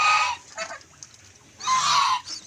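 Farm geese kept alongside native pigs give two loud bursts of honking, one at the start and a longer one near the end, separated by quieter calls.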